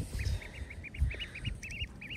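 A domestic duck outdoors gives a fast run of short, nasal quacks in a steady series, fairly faint against low background rumble and thumps, with no talking.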